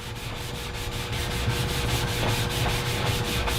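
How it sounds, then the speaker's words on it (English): Graffiti marker paint is buffed off a surface with a buffing product, producing a steady, close abrasive rubbing in quick regular back-and-forth strokes throughout, with no talking. "it also comes off quite easily with the off-the-shelf buffing product"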